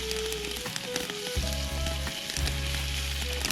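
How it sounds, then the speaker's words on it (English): Potatoes fry and sizzle in an oiled pan at a lakeside shore lunch, a steady close hiss with faint crackle that runs throughout. "Once it's coated, and we just dump our potatoes right in there."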